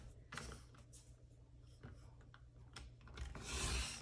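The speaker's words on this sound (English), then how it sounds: "Cut again, there's your second mat." A 12-inch paper trimmer cuts paper into 5x7 mats, heard as soft scraping and sliding strokes followed by a louder rasping slice near the end, close and quiet with no speech.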